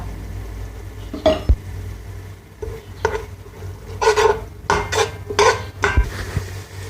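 Crushed cumin and spices roasting in a pan for chickpea curry, with a metal spoon scraping and clinking against the pan in short bursts over a faint low background sizzle.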